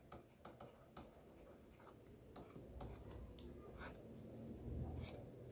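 Pen or pencil writing by hand while working an accounting calculation, a run of quick scratchy strokes and taps over a steady background hiss, fairly close.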